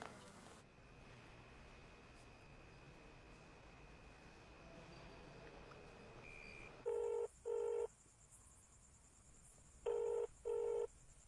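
A phone ringback tone repeats in paired beeps, two pairs after a stretch of steady background rumble, with no one picking up.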